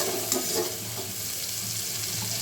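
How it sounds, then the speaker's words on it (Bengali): Green chilies and onions fry in hot oil over a cumin and dried chili tempering, giving a steady close hiss with a few brief bursts of crackle near the start. "এখন আমি কাঁচামরিচ পেঁয়াজ দিয়ে কাঁচামরিচ পেঁয়াজটা গোলাপি করে ভেজে নেব"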